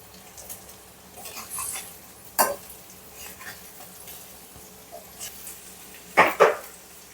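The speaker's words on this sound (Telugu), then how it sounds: "1 మినిట్ ఫ్రై అయినాయి కదా, మళ్ళీ ఇటు తిప్పేసుకోవాలి." An egg fry with curry leaves and coriander crackles softly in a pan, with a few sharp clatters and scrapes as it is turned over, the loudest clanks near the end.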